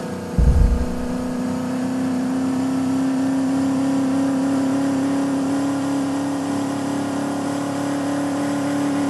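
A car engine in the Indian Vehicle Simulator 3D game drones at a steady, loud, even pitch throughout a drag race, with a brief low rumble at the start and no talk.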